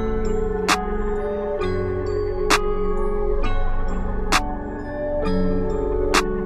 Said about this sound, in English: let's start off with this clap right here